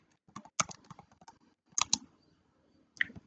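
Typing on a computer keyboard, close and quiet: a quick burst of several clicks, a short pause, another small cluster, then one last keystroke, with no talk over it.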